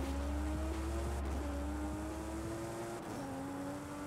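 A Toyota Supra in the racing game Forza Horizon 5 roars steadily as its engine revs climb and shift, a loud sustained engine tone with tire noise beneath, and no talk.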